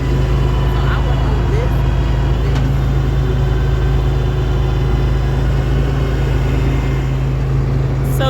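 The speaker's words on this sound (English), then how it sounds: "we getting in the truck. So this is our ride home. It's loud." A truck engine drones loud and steady from inside the cab on a ride home, a constant low rumble filling the whole stretch with little change in pitch.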